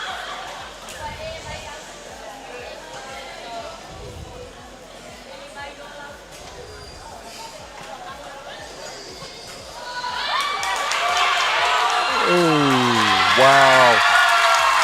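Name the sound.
crowd cheering and applauding at a sports competition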